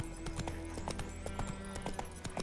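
Hoofbeats of Geralt's horse Roach in The Witcher 3, a steady close clip-clop rhythm of hooves trotting along a trail against a constant ambient game background.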